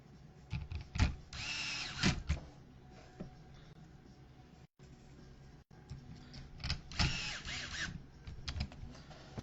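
A power driver backs screws out of a TLR 22X-4 2.0 RC car in several short whirring bursts with small clicks between them, quiet and close.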